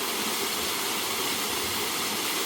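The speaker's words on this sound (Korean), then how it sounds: "마치 부부처럼, 마치 연인처럼 두 개의 폭포가 흘러내리고 있습니다." Twin waterfalls at Yongchu Falls on Sarangsan in Goesan pour down in a dense, loud, unbroken roar that fills the whole soundscape.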